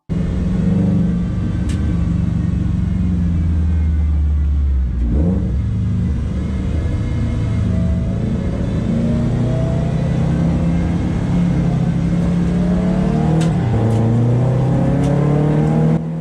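A race car in the Super Production Challenge at Calabogie accelerates hard at a race restart, its mid-pitched engine roaring close and loud, climbing through the revs with brief dips at gear changes.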